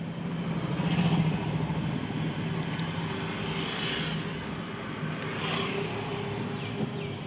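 A vehicle engine on the road near a new bridge, a dense continuous rumble with faint swells of passing traffic and no clear start-up.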